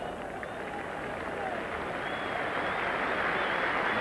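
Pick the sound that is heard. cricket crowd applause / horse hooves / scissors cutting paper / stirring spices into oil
cricket crowd applause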